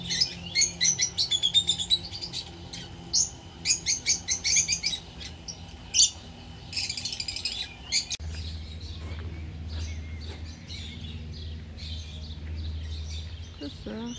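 Small birds chirp and tweet noisily at a zoo park, busy bursts of high calls that thin out partway through under a low hum, with a voice briefly heard.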